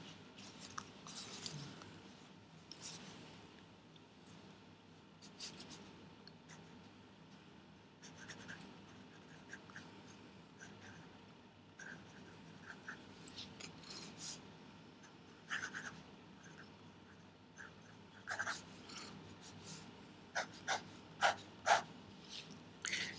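A broad-nib Montblanc Meisterstück sterling silver Solitaire Barley fountain pen writes on Vosges de France paper, giving soft, continuous scratchy nib strokes with short pauses between words, close and quiet.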